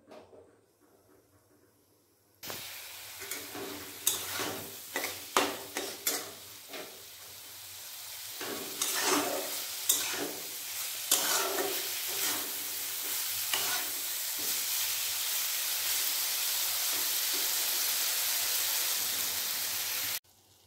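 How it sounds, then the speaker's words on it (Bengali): Fried soybean chunks are stir-fried in a pan with onion and garlic, starting in near silence before a sharp sizzle bursts in, spatula scrapes knocking repeatedly, then settling into a steady loud hiss. "সয়াবিনটা ভালোভাবে কষিয়ে নেব।"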